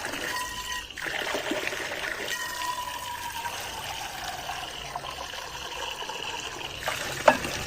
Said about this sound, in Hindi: फिलहाल पानी भरता हूँ इसमें, ठीक है। और पानी देखो ऐसा भर जाएगा